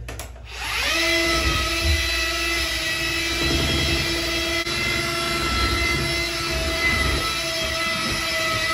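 A Metabo cordless plaster mixer spins up after a start click and then whines steadily at high speed through a large batch of plaster, the rotating paddle churning loudly and close.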